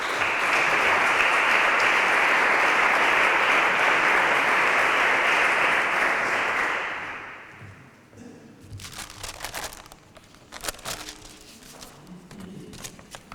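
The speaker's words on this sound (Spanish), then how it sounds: "y un aplauso para él." Loud, dense applause from a flamenco festival audience in Ojén greets culture councillor Diego Santos, sustained for about seven seconds before fading into scattered claps, shuffling and room noise.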